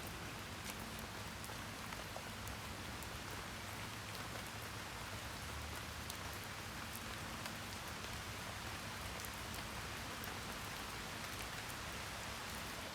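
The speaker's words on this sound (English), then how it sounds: "the rain came on again there, a big downpour" Heavy rain pours down steadily onto a Hungarian Zeltbahn tent shelter, a dense, constant hiss and patter with scattered sharper drop hits, loud and close from inside, with no voices.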